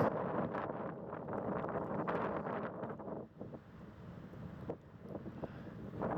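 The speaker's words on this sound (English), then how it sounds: "get away from all this wind, as it's very cold in the wind" Cold wind gusts across a snowy lake, a steady broadband rush with heavy microphone buffeting, loud at first and then easing into softer, uneven gusts.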